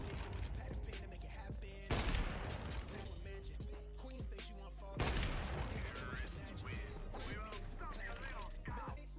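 Rapid gunfire in Counter-Strike 2, bursts of shots crackling over a busy game mix with heavy impacts near 2 and 5 seconds, while a player talks over the action.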